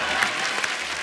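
Studio audience applause at a comedy talk show as a guest singer is invited on stage, a dense steady wash of clapping throughout the short moment, close and full.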